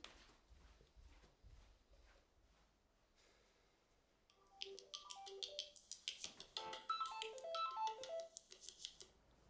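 A telephone rings after a number is dialed, heard as a repeating melodic electronic ringtone that starts partway through and grows louder, with faint rustling before it.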